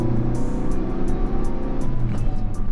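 Ford Focus RS turbocharged engine pulling under light throttle from inside the car, a steady low drone and road rumble holding throughout at moderate level, with no talking.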